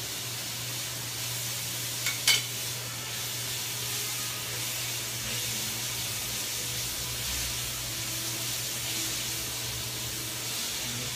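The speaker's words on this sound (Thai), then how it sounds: "ผัดหอยจริงๆค่ะเพราะบ้านเราชอบกินหอยนะคะ" Precooked shellfish stir-fried with roasted chili paste in a pan, a steady close hiss and sizzle throughout with a brief scrape of the utensil near the start.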